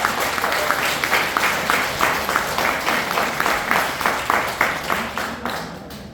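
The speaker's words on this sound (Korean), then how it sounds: "여러분, 오경구 회장님께 대단한 박수 부탁드립니다." An audience at a Lions Club president's inauguration ceremony claps, starting as dense applause and settling into rhythmic, evenly spaced unison clapping that fades near the end.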